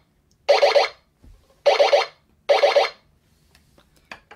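A Captain Power toy light gun fires three times, each shot a loud, close electronic burst of rapid pulsing tones lasting about a third of a second, separated by short silences.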